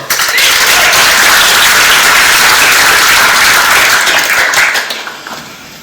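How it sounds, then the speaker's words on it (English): Loud, dense audience applause after a talk on generative AI and data engineering, a steady roar of many hands clapping that holds for several seconds, then fades out near the end. "Big round of applause for it."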